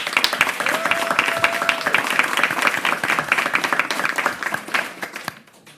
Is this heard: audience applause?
yes